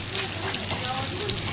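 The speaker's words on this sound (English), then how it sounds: "Now we got some Morel sizzling" Morel mushrooms frying in a pan, a steady close sizzle with crackling hiss running throughout at moderate level.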